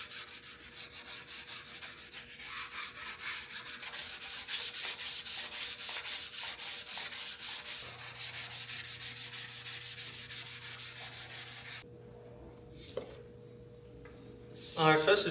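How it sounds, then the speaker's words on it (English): Block sanding of primer on the fender of a 1979 Camaro Z28, a steady run of rhythmic rasping strokes that is loud and close, then a brief quieter pause before the scraping resumes. "So now, let's get sanding."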